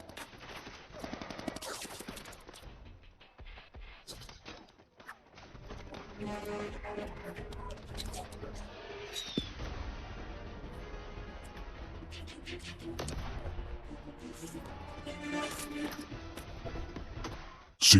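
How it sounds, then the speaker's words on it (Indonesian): Bursts of gunfire crackle through a busy film soundtrack, scattered shots and rapid volleys mixed with music and effects, fairly quiet overall. "Di tengah-tengah baku tembak, Six mengambil pistol yang terbengkalai"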